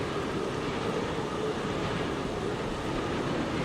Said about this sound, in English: I have to stop the train.